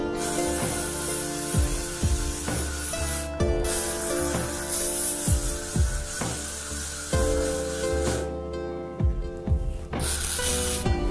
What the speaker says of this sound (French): allez-y vraiment franco avec la laque